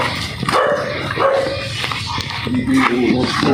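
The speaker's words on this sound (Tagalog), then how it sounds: "Yung aso pala." A dog barks and yips several times at close range outdoors, short sharp barks in quick bursts, with people talking nearby.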